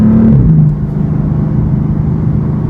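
A 2015 BMW M4 Coupe accelerating hard, a loud engine note rising then dropping at a gear change before settling into a steady low rumble and whir, heard from inside the car.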